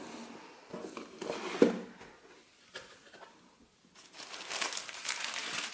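Recyclable cardboard packaging for a Lisa Eldridge eyeshadow palette is handled up close, giving intermittent crinkling and rustling with brief pauses and no talking.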